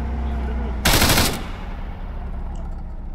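Arma 3 gunfire: one short, loud burst of automatic fire cutting through a quieter background, with no talk during it.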